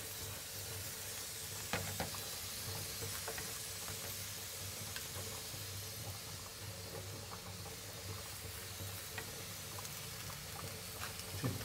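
Makki paratha, a maize-flour flatbread brushed with ghee, roasting on a hot pan, giving a soft steady sizzle and hiss with faint scattered crackles throughout, no voices.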